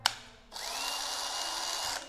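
A cordless Japanese-made drill spins up in its slow speed mode after a short click, running steadily with a whirring motor whine for about a second and a half, then stops; close and fairly loud, no talking.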